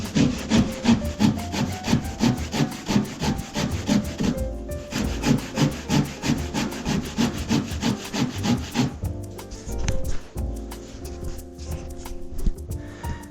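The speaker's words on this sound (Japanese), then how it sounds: "ノコギリで切っていきますよ。" A handsaw cuts through square wooden timber beneath a shed while an aluminium sash is being removed, giving steady, rhythmic back-and-forth rasping strokes up close. The strokes pause briefly, then resume more faintly and irregularly.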